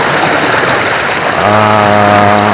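Water of the Oyo river in Gunung Kidul flows at night with a steady, loud rushing wash, and a tonal hum joins partway through.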